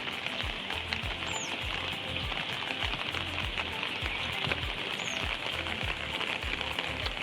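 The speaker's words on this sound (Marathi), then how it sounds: "बारीक बारीक चालूच आहे कायम पाऊस चालूच आहे" Light rain patters steadily, a soft continuous hiss with scattered drops, and occasional faint bird chirps in the background.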